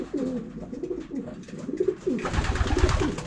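Homing pigeons coo in a loft, with repeated soft, throaty calls close by, then a burst of rustling and flapping noise rising over the cooing.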